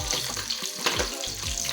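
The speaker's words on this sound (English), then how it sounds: "Once you pour it in the water, you wash it, then you drain the water out." Water runs and splashes steadily, like a tap filling a bowl or sink while rice is washed, with a few clinks in between.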